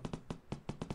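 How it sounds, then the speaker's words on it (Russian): Quick, hollow knocks on a door in the mobile game Cooking Simulator rap in irregular bursts, about eight sharp taps in one second, close and fairly loud. "нетерпеливые клиенты стучат в двери, да?"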